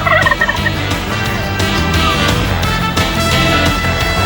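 Turkeys gobble in a loud, continuous flock chorus, overlapping calls layered over a steady background for the whole stretch.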